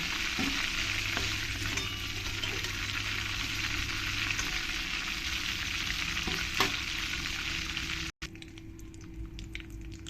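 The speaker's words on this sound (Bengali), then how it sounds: "পরের চিকেনগুলো আমি ফ্রাই করে নেব" Chicken pieces frying in a pan of hot oil, a steady dense sizzle that holds close and loud throughout with faint clinks, cutting out briefly near the end before resuming.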